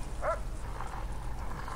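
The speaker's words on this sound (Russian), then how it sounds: "Собаки быстрые какие," Guard dogs in the prison game Prison Architect give a short, sharp yelp or bark near the start, followed by steady low game background noise.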